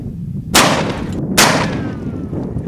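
Two loud, sharp rifle shots from a Mosin Nagant 91/30 in 7.62x54R fired at a jug filled with rocks outdoors, each crack followed by a short decaying echo.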